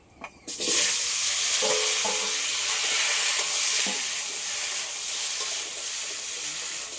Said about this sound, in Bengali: মাছের তেলের মধ্যে কলা আর আলু এবার আমি ভেজে নেব।